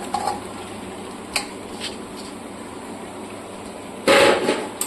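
Cauliflower added to a pan of poppy seed paste, with scraping and clattering of a utensil over a steady frying hiss and one louder burst of sizzle.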